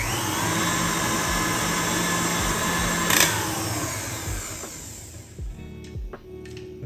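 An electric mixer whirs loud and steady through Kodiak flapjack batter, then cuts out partway, leaving a few soft knocks and scrapes.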